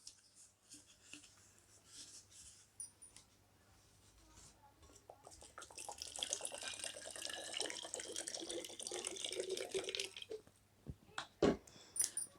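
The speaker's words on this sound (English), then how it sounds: "Now I am going to fill water in this bottle." Water poured into a bottle with a hole in its base during a class demonstration on liquid pressure, a faint trickling splash that builds midway and stops in a few clunks, after quiet room noise.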